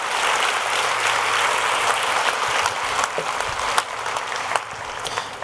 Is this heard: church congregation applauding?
yes